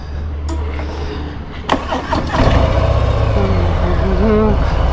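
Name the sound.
Harley-Davidson FXDR motorcycle engine starting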